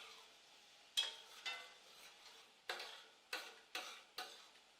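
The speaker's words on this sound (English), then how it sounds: "Stir all that in together." Tomato sauce stirred into a browning mixture in a cooking pot, a series of soft, close scraping strokes repeating every half second or so with faint sizzling between them.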